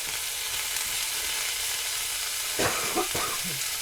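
Canned corned beef and cabbage frying in a pan: continuous bright sizzle and hiss, with a few scraping stirs of a utensil toward the end, close up and without talk.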